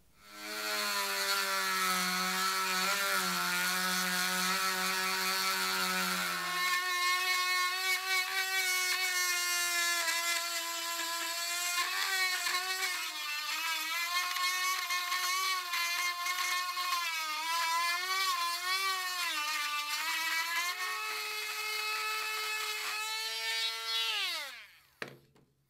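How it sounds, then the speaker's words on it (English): A small engraving tool fitted with a grinding stone grinds down the peaks of a wooden burl, a high, steady motor whine that drops in pitch under load, wavers throughout and winds down at the end. "I've just got this engraving tool here and I've just put a grinding stone in the end of it"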